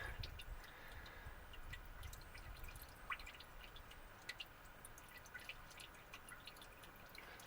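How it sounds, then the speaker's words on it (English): Engine oil splashes and drips inside a barn-find engine during an oil flush, with faint scattered drips and small splashes over a low, quiet hum. "Hopefully that splashing in there like that is trying to flush the rest of the crud out."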